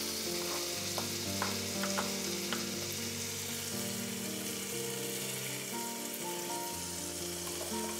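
Butter melts and sizzles in a hot pan for butter garlic eggs, a dense, steady crackle close to the mic. A low hum runs underneath and a few sharp pops rise above it, with no talking.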